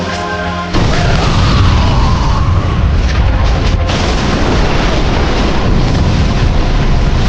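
A sorceress's magic wand blows up in an anime fight: a sudden loud blast erupts into a sustained, heavy, roaring rumble that fills the rest of the stretch.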